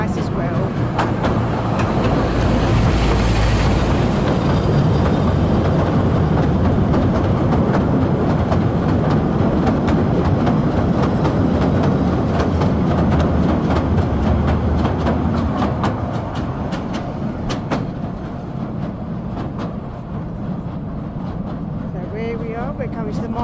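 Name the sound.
passing train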